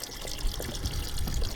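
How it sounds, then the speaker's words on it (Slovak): Water is bailed out of a fishing boat on a carp-fishing lake trip, a close, continuous splashing and trickling pour with uneven sloshes throughout. "vyčerpávam vodu z člna"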